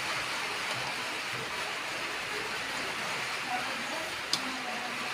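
Steady broadband hiss of rainfall fills the scene evenly, with a voice talking faintly underneath and a single sharp click near the end.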